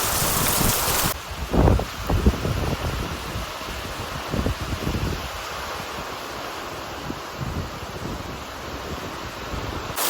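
Heavy unseasonal downpour in a Gujarat village, with strong wind, dense rain hissing steadily on surfaces and gusts buffeting the microphone, no talking.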